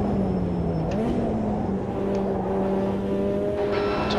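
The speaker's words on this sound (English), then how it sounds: "As you can hear with the revs rising multiple times up the hill" A Ferrari F40 GTO race car in Automobilista 2 climbing a hill, its engine droning steadily at high revs with pitch rising and shifting, loud and close without talk.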